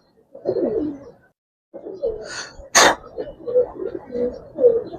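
Giribaz pigeons coo in low, soft bursts among the birds, with a sharp sneeze-like noise midway and people talking over much of the sound.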